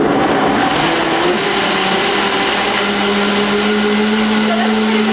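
Raw cashew cheesecake ingredients churn in a running blender, a loud, close, steady motor whine that holds unbroken throughout.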